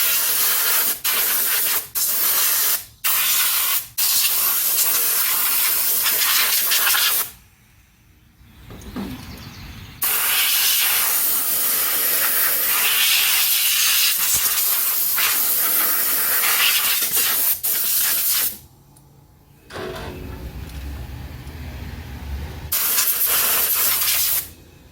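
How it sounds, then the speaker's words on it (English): Compressed air blasts dirt off a 350 engine in a 1977 Chevrolet Cheyenne C10 pickup, loud close hissing bursts, several brief ones at first, then long sustained blasts broken by a couple of quiet pauses. "I want to blow some of this crap off of here first"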